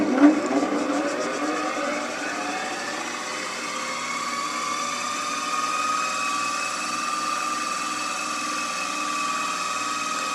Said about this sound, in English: it's an old-fashioned gear motor, and you can't slow it down like you can the modern potter's wheels